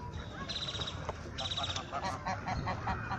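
Several ducks honk and quack at moderate distance, a few repeated calls over outdoor background noise, in an ecological park in Puebla, Mexico.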